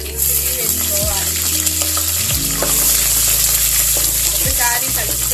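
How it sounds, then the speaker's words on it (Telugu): Green chillies frying in a pan with cloves and caraway for moong dal khichdi, a steady close sizzle with stirring scrapes throughout and no talk. "ఫ్రై అయిన తర్వాత ఇందులో గ్రీన్ చిల్లీ వేసుకోవాలి."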